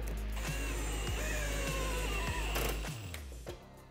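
A ratchet with an adapter drives bolts into a TV mount, giving rapid mechanical clicking bursts up close, with several separate pulls before it slows and stops.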